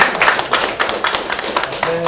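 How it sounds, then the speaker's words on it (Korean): A small group at an elementary school site visit claps in welcome, a short burst of close, uneven hand claps with a voice starting to speak at the end. "박수 한번 주세요"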